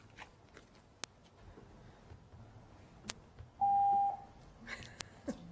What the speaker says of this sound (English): Just wants to beep at you.